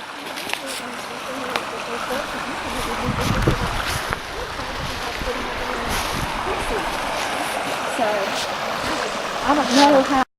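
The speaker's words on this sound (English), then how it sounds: "Nice little footbridge over the creek below the dam." A creek flows beneath a footbridge below the Lake Russell dam, a steady broadband rush of running water lasting throughout, with a louder swell near the end.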